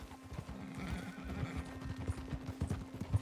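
A horse neighs and hooves clip-clop in Red Dead Redemption 2, steady hoofbeats with a whinny over a faint background hum, no speech.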